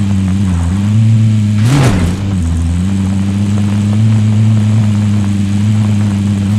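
Vehicle engine in Call of Duty Warzone, a loud steady low hum with a brief surge in pitch and a whooshing burst near the start before settling back to a constant drone.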